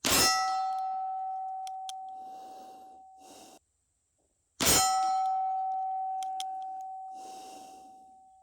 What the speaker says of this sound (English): So let's shoot some long-range steel with this short barrel